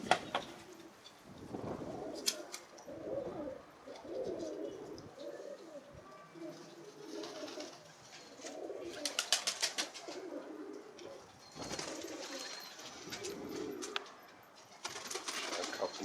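Pigeons coo in repeated soft, throaty phrases nearby, with occasional chirps and brief wing flutters, while someone speaks intermittently.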